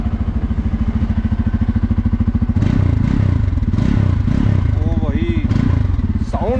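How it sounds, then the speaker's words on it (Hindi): Close by, a Bajaj Pulsar 250F motorcycle idles with a steady thumping pulse, then surges louder as the throttle is blipped, the engine note rising and falling while someone talks over the later revs. "देखो मैं एक्सीलरेटर देता हूँ"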